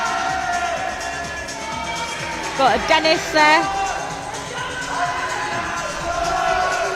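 Crowd at an ice climbing competition finals at the Sunderland wall, a burst of whoops and cheering in the middle over steady murmur, with a commentator talking throughout.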